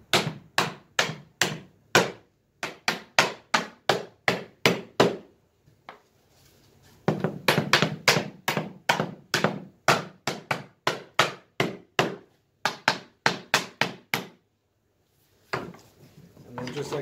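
Sharp, evenly spaced hammer blows knock the stems out of cheap 3-inch Harbor Freight caster wheels, a loud close run of metallic taps in several bursts with short pauses between.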